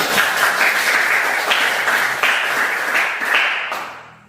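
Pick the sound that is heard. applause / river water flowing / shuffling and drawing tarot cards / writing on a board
applause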